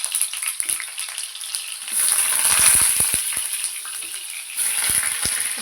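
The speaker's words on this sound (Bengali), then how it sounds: "আমি পটলটা ভাজবো, পটলগুলো লাল লাল করে পুরো ভাজতে হবে।" Pointed gourd frying in mustard oil gives a loud, close, continuous sizzle and crackle, with a few sharp spoon or pan knocks as the pieces are turned.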